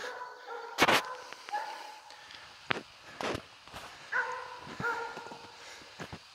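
A dog gives a few short barks and yips in irregular bursts nearby, mixed with footsteps and rustling.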